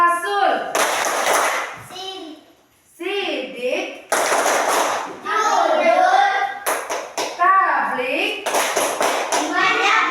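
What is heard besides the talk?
rhythmic group clapping game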